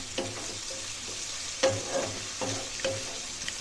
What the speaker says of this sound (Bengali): আবার একটু নাড়াচাড়া করে দিয়ে নিচ্ছি